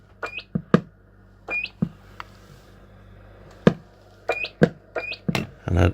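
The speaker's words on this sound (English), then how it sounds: "And of course has that very distinctive Mark 1 beep." Roger beeps from a Cobra 148 GTL DX Mk1 CB radio, a series of short, sharp electronic chirps spaced irregularly between bursts of keying static, close and fairly loud.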